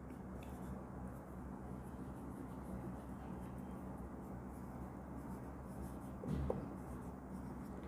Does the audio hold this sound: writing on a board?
yes